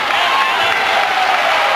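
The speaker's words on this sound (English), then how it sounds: "Connersville crowd starting to show some enthusiasm for their hometown Spartans" A hometown Connersville Spartans crowd at a 2005 high school basketball game against New Castle roars and cheers in a steady, loud wash of noise.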